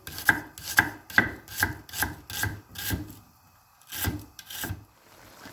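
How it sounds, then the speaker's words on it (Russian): A knife chopping onion into half rings on a wooden board in a steady run of close, crisp strokes, pausing briefly before two final cuts. "мы нарежем лук полукольцами"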